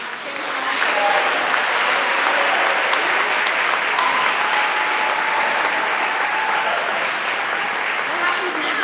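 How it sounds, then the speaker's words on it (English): Sustained, dense applause from an audience at an evening book event, steady and full for the whole stretch, with a few voices mixed in under the clapping. "Let's give these two one last round of applause."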